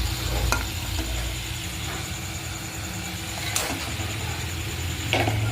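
Turmeric, chili and coriander powder frying in hot oil as it is stirred, a steady close sizzle with occasional scraping clicks of the spoon against the pan.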